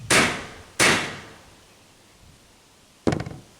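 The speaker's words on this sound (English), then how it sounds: "get it started with the hammer" Three sharp hammer strikes starting screws into wood, two close together and a third after a pause, each a crisp impact with a short decay.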